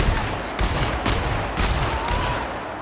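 Sniper rifle fire in the video game The Outer Worlds, with several sharp cracks spaced about half a second apart over steady background noise.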